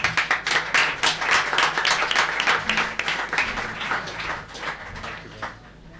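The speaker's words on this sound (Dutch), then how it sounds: "Applaus nu voor Jetse Batelaan" Applause at a theater festival talk show as guest Jetse Batelaan is welcomed: crisp, lively clapping from an audience, strong at first, then thinning and fading toward the end.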